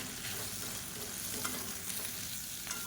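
Chutney ingredients with curry leaves, tamarind and coriander sautéing in a pan, a steady close sizzle with soft stirring scrapes throughout, no voices.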